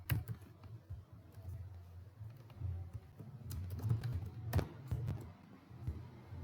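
Excel VBA code being typed on a computer keyboard, a quiet run of irregular key clicks and taps, close but soft, with occasional sharper keystrokes.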